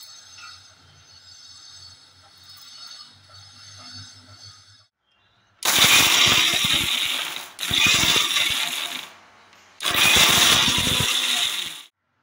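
Mixer grinder blending tamarind chutney with salt and a little water: after a quieter stretch, three loud whirring grinding bursts run back to back with short pauses between them.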